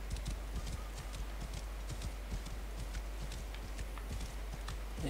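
Horse hooves clip-clop in a steady, quick walking rhythm in the video game Assassin's Creed Origins, faint and continuous with no talk over them.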